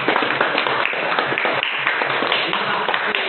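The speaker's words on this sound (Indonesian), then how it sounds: "Kita tepuk tangan untuk kelompok 1." A room of people at a group-discussion session claps for the first group, a dense, steady patter of hands lasting about three seconds with no pauses.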